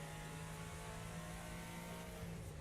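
A race car engine in the video game Wreckfest on Switch holds a steady, low, buzzing drone with a constant pitch, faint and continuous for under three seconds, with no speech.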